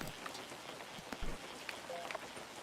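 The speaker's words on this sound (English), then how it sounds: "And it's raining too, so it's more likely that fish will appear" Steady rain falling in the fishing video game WEBFISHING, a soft continuous patter of drops with a few louder splashes, fairly quiet and alone.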